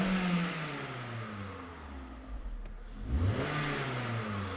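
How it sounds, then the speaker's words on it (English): A car engine at idle is blipped with a slight rev, its pitch rising briefly and then easing back toward a steady idle, heard close and alone without talk. "We give it a slight rev."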